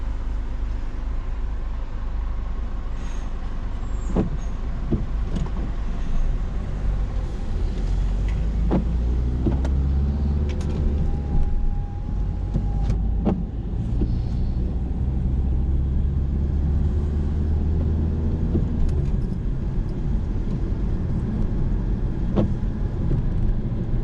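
Low interior rumble of a car rolling along a road during a driving lesson, a steady engine and tire drone with occasional thumps and faint clicks.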